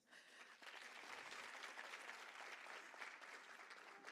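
Hall audience applauding at a Women's Day event after a speaker is welcomed, clapping swelling in quickly and holding as a steady, even roar, fairly distant and quiet overall.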